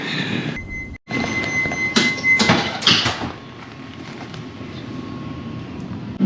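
Interior of a crowded passenger train during a long standing-room ride, with a steady rumble and rail noise throughout, a few louder clattering bursts early on and faint tonal hums over the running noise.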